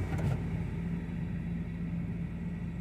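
A Komatsu GD555 motor grader's engine idles quietly and steadily, a low continuous rumble with a faint hum, no talking over it.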